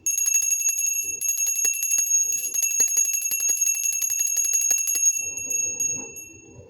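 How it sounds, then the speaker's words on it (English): A bright metallic bell rings continuously with rapid repeated strikes and long sustained tones, fading out near the end as soft rustling remains. "clear the energy with my bell"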